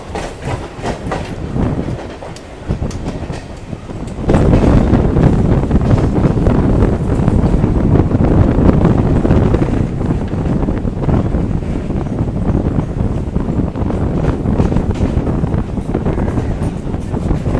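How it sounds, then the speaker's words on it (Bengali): A local train on the Howrah to Dum Dum line pulls out of Patipukur station, heard from on board as a loud continuous rumble with rail clatter and wind rush building after a quieter start. "ছেড়ে দিল আমাদের ট্রেনটি পাতিপুকুর স্টেশন থেকে"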